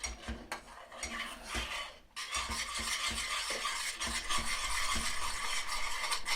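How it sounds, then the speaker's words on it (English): A spoon works through a thick, creamy garlic pasta sauce in a pot, giving steady scraping and clinking against the metal with a brief pause near the start, then continuous close stirring without talk. "add a bit at a time and then stir"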